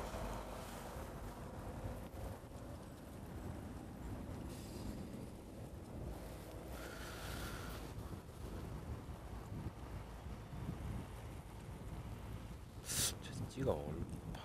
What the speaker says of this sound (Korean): 바람 많이 불어.